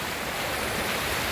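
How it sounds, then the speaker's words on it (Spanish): A swollen, fast-running creek (quebrada) in flood rushes steadily nearby, a loud continuous broadband roar of churning water with no voices. "Está bastante crecido la quebrada"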